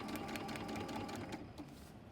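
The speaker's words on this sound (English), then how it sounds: "I'm going to go forward a couple of stitches. I'm going to back stitch just a couple or three, and then I'm going to sew on my line" A sewing machine stitches a seam on a Haunted House quilt block, running in a steady, close whir throughout with a slight dip near the end.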